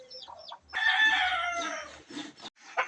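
A Bisaya native hen in a rural Philippine coop gives a drawn-out cluck-crow call with short clucks before and after, close and clear in a quiet setting.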